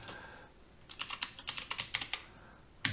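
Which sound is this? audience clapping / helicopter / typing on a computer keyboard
typing on a computer keyboard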